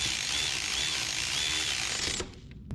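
A ratchet or power tool bolting eyelets onto a 1992 Toyota pickup, a loud continuous mechanical whirring that stops abruptly, followed by a couple of sharp clicks.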